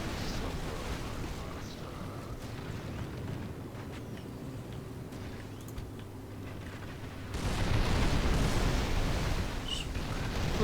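Battle in the Call of Warhammer strategy game, with a continuous rumble of artillery and massed gunfire that grows louder and denser toward the end, heard at a distance under a steady din.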